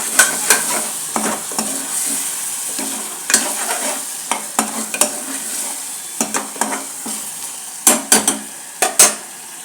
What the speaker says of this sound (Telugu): బాగా ఫ్రై అయిపోవాలని.